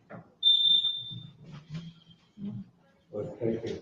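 A faulty smoke detector gives a single shrill high-pitched beep lasting about a second, loud at the start, amid a meeting room with people murmuring and talking nearby.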